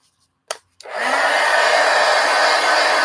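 A hair dryer drying paint on a mixed media art journal page switches on after a couple of short clicks and runs as a loud, steady whoosh to the end, with no talk.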